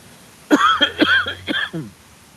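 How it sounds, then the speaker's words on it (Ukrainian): A few short, harsh coughs in quick succession, close and fairly loud, then a brief raspy exhale. "перепрошую, мушу покашляти"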